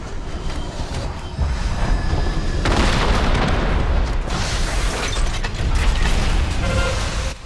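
Barrage explosions from the Iron Reaver boss in a heroic World of Warcraft encounter: a loud, continuous stretch of heavy rumbling blasts and mechanical clatter, swelling in waves with no voices over it.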